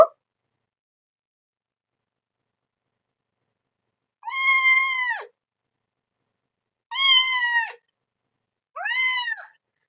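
A very young kitten, not yet walking well, gives three high, drawn-out meows, spaced a couple of seconds apart, after a stretch of silence; loud and close.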